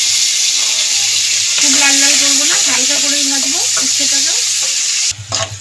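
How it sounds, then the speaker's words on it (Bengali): Loud, steady sizzling of bitter gourd frying in hot oil, with scraping and stirring throughout and a faint melody underneath; a clatter comes near the end. "এবার উচ্ছেটা ভেজে নেব"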